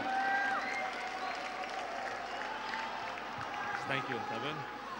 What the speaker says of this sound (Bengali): জোরে একটি করতালি তার জন্য।